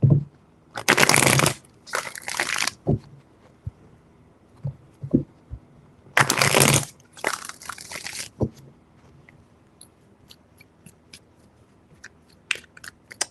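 A tarot deck is shuffled by hand in three separate bursts of crisp, close riffling, each a second or two long, with quiet pauses and light handling taps in between.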